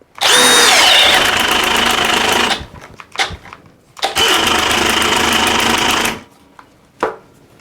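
Cordless brushless hammer drills, a Milwaukee M18 Fuel Gen 4 and a Hercules 20v, spin at speed 2 in two loud, steady whirring bursts of about two and a half seconds each, separated by clicks and handling knocks.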